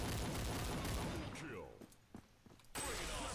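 A PKM machine gun in Counter Strike Online 2 fires a dense, rapid burst for about a second and a half, then trails off into scattered shots and mechanical clicks, with someone talking over the gunfire.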